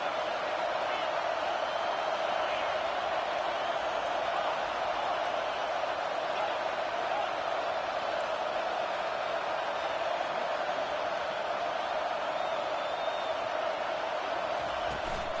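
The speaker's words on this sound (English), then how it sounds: "This crowd trying to make life miserable for this offense." Stadium crowd at an American football game, a steady, dense roar of cheering and noise held at an even level throughout, with no clear breaks.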